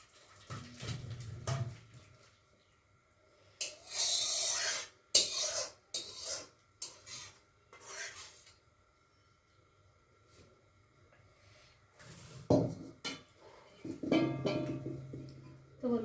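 Cooked chicken poured and scraped out of a metal cooking pan in a home kitchen, quiet intermittent clinks and scraping of a utensil against the pan with long pauses between.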